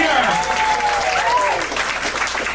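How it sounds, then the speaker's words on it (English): A comedy show audience at JPs breaks into a round of applause, dense and steady clapping throughout, with a voice calling out over it. "Round of applause for that."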